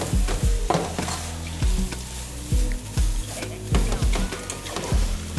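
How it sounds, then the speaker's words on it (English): Grains fry in a pot for Liberian potato greens, a loud steady sizzle broken by repeated scraping strokes of a spoon stirring against the pot at a regular rhythm. "How long do we usually fry the grains?"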